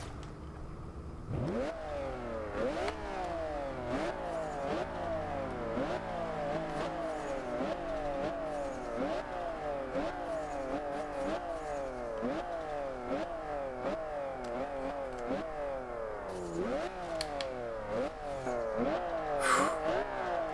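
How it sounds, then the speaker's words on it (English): A 2002 Ferrari Enzo in the video game Forza Horizon 2 revs steadily and loudly, its engine note climbing and dropping sharply through repeated gear shifts with no talk over it. "Man, I love the sound of this engine."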